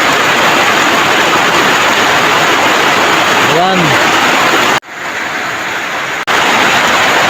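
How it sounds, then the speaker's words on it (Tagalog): Heavy rain pours down without wind in a constant, loud rushing roar like a waterfall. A voice briefly speaks over it, and the sound drops suddenly toward the end. "grabe ang ulan mga kapamers."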